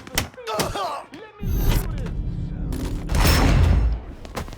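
Gunfire in the video game Mafia III: a burst of loud, close shots and heavy thuds that run for several seconds, mixed with shouting voices from the game.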